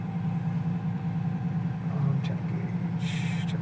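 A 1973 Camaro Z28 engine rumbles in a low, steady drone while driving and warming up, heard from inside the car with a faint rattle near the end.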